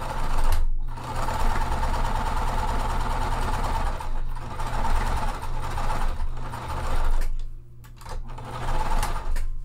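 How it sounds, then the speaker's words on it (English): A sewing machine stitching quilt pillow pieces at a quarter-inch seam, running as a steady close mechanical whir with short stops and restarts, no talking. "And I'm going to stitch at a full quarter inch seam allowance."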